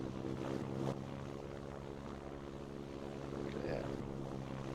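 Propeller airplane engine in a flight video game, aborting a landing and going around: a steady, droning engine hum that swells slightly near the end, with no speech over it.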